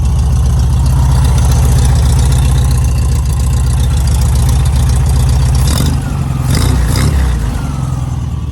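Classic air-cooled VW Beetle engine running steadily after a fuel pump replacement, a loud close idle with constant low chugging that stays even and then roughens with a few short bumps near the end, no talking.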